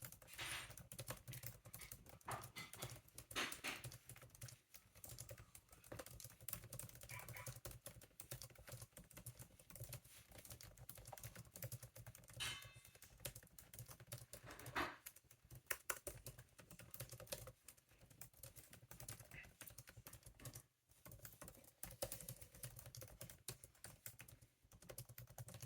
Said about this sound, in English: The keyboard is really great for typing.